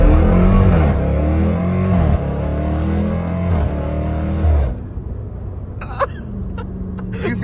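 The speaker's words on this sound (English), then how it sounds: "You feel all four tires spinning?" Hard launch in a car with all four tires spinning, a loud, close engine roar with rising revs and tire noise that cuts off into quieter rumble and a few sharp knocks.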